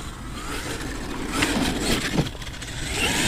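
A Hobao Hyper MT 4S radio-controlled truck with a noisy transmission runs with a steady mid-pitched motor whine that swells and dips, surging louder around the middle, alone with no voices.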